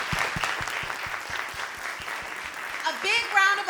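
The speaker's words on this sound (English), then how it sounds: "A big round of applause." An audience at a civic dinner panel on healthy food access in Chicago claps for the panelists, dense applause with some rhythmic clapping, and a voice starts talking over it near the end.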